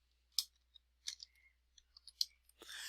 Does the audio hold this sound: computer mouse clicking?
yes